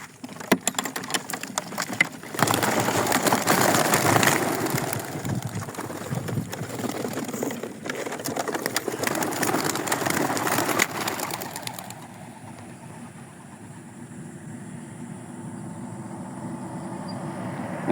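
Pigeons coo amid a dense, noisy wash of activity that dominates most of the stretch before settling into a quieter, steadier background near the end.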